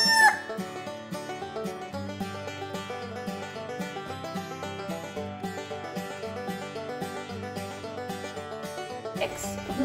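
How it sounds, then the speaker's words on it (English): On a farm, a rooster crows near the start, and chickens keep up a continuous, fairly quiet run of clucking and calling after it. "There's our protective rooster coming our way now."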